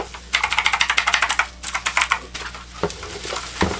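Rapid keystrokes on a Redragon K516 VISNU RGB gaming keyboard, a quick run of close, crisp clicks followed by a few slower, scattered presses.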